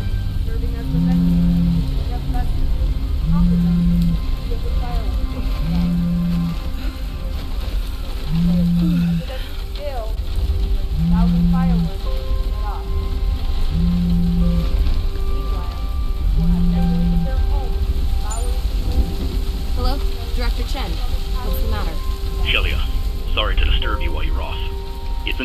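Light rain in the game Bright Memory: Infinite, a steady soft hiss of drizzle running throughout beneath a low repeating tone, with faint scattered pings and a brief rising sound near the end.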